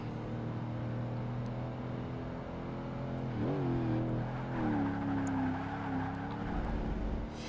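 An SUV races in Project Gotham Racing 2, its engine droning steadily with a rising rev sweep midway and tire noise, held at an even, close level throughout with no talk.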